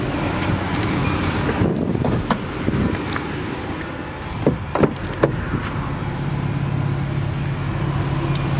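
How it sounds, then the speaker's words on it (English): A steady, even rush of air blows from the automatic climate control vents of a 2003 Hyundai Santa Fe LX V6, a constant moderate hiss that continues unbroken with no talk over it. "Air is blowing nice and cold."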